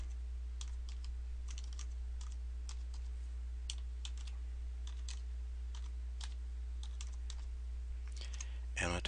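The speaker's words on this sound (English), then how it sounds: "now I'm going to type in my new email-based user ID" Typing on a computer keyboard to enter a user ID for a website login, quick irregular clicks of individual keys, close and fairly soft over a steady hum.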